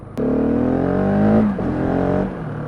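A 2016 Husqvarna 701 Supermoto single-cylinder motorcycle revs up hard with a rising buzzy engine note, close and loud, then drops off as the throttle eases.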